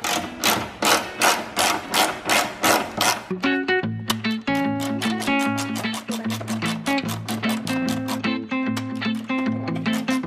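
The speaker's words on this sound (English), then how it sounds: "Now you're gonna need a Torx 30 to take off all of the bolts that are up on top of here." A socket tool removes Torx 30 bolts from a BMW E46 fender, starting with a run of rhythmic, regular ratcheting bursts and then settling into a loud, steady, whirring mechanical drone up close.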